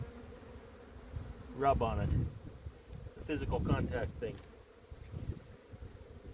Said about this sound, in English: this is a pretty good hive. We've got quite a few bees.